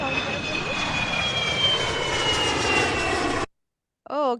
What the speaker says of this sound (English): It was the sound of aeroplane, airplane.